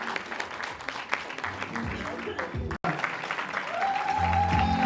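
Audience applause fills a conference hall at a Benin health-products event: sustained clapping with a brief gap near the middle, rising steadily toward the end amid crowd noise.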